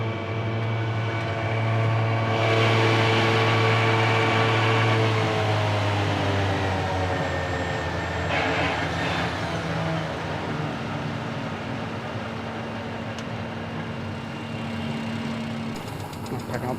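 A tractor engine runs at a constant idle, loud and close, with a continuous droning hum and a faint mechanical whine throughout.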